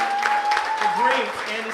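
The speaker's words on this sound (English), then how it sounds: "give a little round of applause, or a big one ideally, for Andy's son" Applause from an audience at a trans rights rally in Springfield, Missouri, greeting Andy's son, a steady wash of clapping over a sustained tone and murmured voices throughout.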